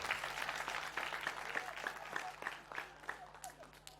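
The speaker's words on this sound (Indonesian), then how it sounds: "Kita tepuk tangan buat beliau." Audience applause at a Nahdlatul Ulama gathering in Pontianak, a thin spread of clapping that stays steady and moderately distant for a few seconds, with faint voices underneath.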